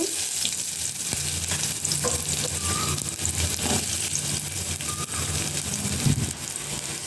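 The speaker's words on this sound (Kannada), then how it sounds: "ಎಣ್ಣೆ ಇದಕ್ಕೆ ಒಂದೆರಡು ಜಜ್ಜಿರು ಬೆಳ್ಳುಳ್ಳಿ ಹಾಕೋತಾ ಇದ್ದೀನಿ ಸ್ವಲ್ಪ ಈರುಳ್ಳಿ" Crushed garlic and onion frying in hot oil for a shrimp and ridge gourd sambar, a steady close sizzle and crackle throughout with occasional stirring scrapes, no talk.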